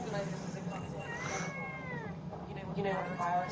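A pet cat lets out several wavering meows in quick succession, close and clear, layered over a constant low drone of background game sound, with a voice murmuring in places.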